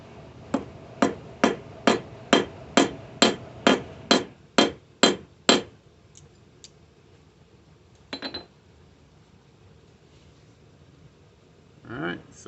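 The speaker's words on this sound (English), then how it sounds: "When you hammer, make sure you use overlapping blows" A hammer strikes a sterling silver ingot in a fast, even series of about twelve loud, ringing metallic blows, then a pause, a brief double tap later and a short burst of speech near the end.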